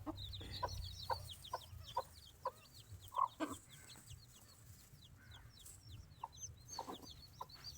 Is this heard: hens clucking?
yes